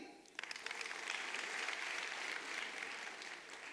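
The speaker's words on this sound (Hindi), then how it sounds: "जोरदार ताली।" Applause from an audience at an auction-style bidding event, steady clapping swelling after a brief quiet start and holding at moderate loudness throughout.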